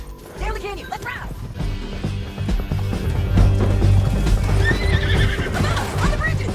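Horses whinnying and neighing amid clattering hoofbeats and creaking tack during a riding scene in a canyon, loud and close, with shouting voices and rumbling action sounds underneath.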